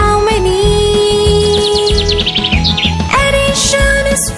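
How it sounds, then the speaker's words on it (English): Small birds chirp in a tree, rapid repeated tweets and trills sweeping upward, loud and close over a steady layer of background music. "4 little birds sitting on a tree."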